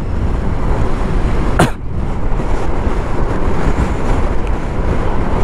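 Strong wind buffets the microphone while riding a motorbike on a road in Ladakh, a steady loud roar throughout with one brief sharper gust, no talk.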